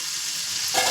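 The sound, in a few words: whole spices (bay leaf, cinnamon, clove, black pepper) sizzling in hot oil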